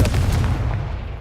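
A Confringo fire spell blasting in Hogwarts Legacy, a loud booming burst that rumbles and fades over about a second, with no talk.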